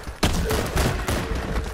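Heavy gunfire with strong recoil in the shooter game Warface: Breakout, a few sharp close shots punching out in quick succession over about two seconds.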